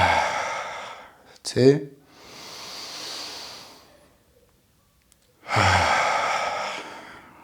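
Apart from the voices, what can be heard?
deep breathing during a yoga stretch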